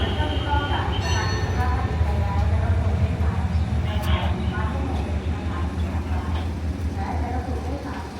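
Steady rumble of a train in motion in Thailand, between Surat Thani and Chumphon, with low rolling noise throughout and occasional faint squeals and clanks, voices murmuring in the background.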